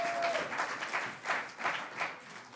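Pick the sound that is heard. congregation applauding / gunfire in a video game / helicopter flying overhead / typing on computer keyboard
congregation applauding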